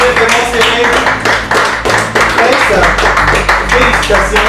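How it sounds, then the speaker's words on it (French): An audience at a televised word-game show gives the two finalists sustained applause, with a dense patter of clapping while a host talks over it. "on applaudit encore très fort pour eux"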